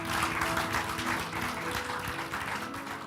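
A church congregation at a Sunday evening service claps for Jesus, a broad, sustained patter of many hands that slowly eases off, heard from within the hall with a faint low musical hum beneath.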